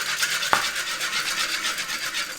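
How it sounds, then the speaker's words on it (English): A Caesar dressing mixture of egg yolk and anchovy is whisked briskly in a bowl, producing a fast, even, rhythmic scraping swish with one small knock near the start, close and steady, with no voices. "And whisk that until we have a nice, smooth, slightly thickened mixture."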